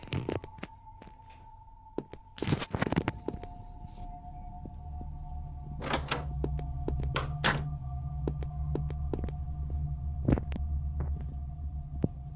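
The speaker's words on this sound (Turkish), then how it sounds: "Bir kapı açılma kapanma sesi geliyor." A door opens and closes in a horror video game, heavy thunks and creaks near the start and middle over a constant low droning hum and scattered knocks, no talking.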